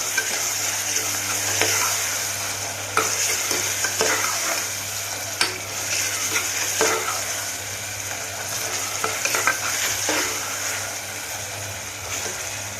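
Ginger-garlic paste sizzles with browned onions in a pan for a raw banana and mango curry, giving a continuous close frying crackle with repeated sharp stirring scrapes and clicks throughout.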